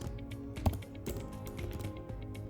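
Rapid typing on a computer keyboard, a steady run of close, crisp key clicks with one louder thump partway through, no voice present.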